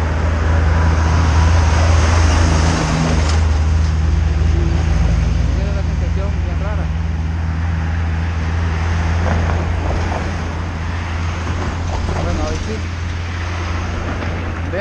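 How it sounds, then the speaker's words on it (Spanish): Buses and cars roll across the Colima bridge over the Lempa River, a steady low roadway rumble with wind buffeting the microphone and a voice talking over it. "Cuando pasan los buses, los carros,"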